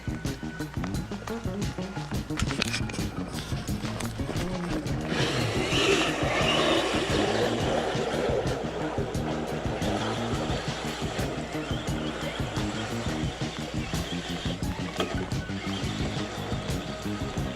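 An off-road vehicle engine strains and revs steadily while climbing down off a big rock on a rainy ranch trail, a continuous low rumble with rattling and splashing texture throughout.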